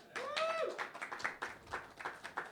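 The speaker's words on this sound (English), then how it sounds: "Round of applause for Margaret Swinging 60s." Scattered hand clapping from a live comedy show audience, a string of separate claps after a brief voice at the start, fairly close and thin rather than a full ovation.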